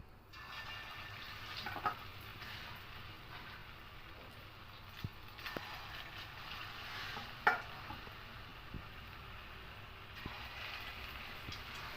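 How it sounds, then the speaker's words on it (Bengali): Bread pakoras fry in hot oil with a faint, steady bubbling hiss and scattered soft pops and clicks throughout. "এবার পকোড়াগুলো দিয়ে দেব সব"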